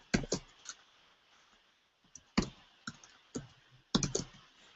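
Fingers tap a computer keyboard up close in short, quiet bursts of clicking keystrokes, separated by brief pauses and nearly silent gaps, with no talking.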